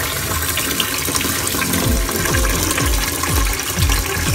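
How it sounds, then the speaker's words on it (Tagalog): Water runs steadily from a tap while glutinous rice is washed for biko, a close, continuous splashing rush with soft gurgles and sloshes throughout. "huhugasan natin ang bigas"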